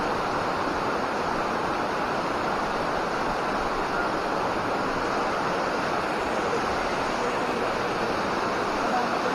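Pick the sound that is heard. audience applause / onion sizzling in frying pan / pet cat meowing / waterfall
waterfall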